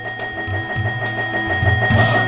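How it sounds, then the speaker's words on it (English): Rapid repeated blips tick along in a steady rhythm over a looping game tune as a level score is tallied in Disney's The Lion King: Simba's Mighty Adventure, ending in a brighter burst of chimes. "want to see every single point you've collected from a level be counted one by one?"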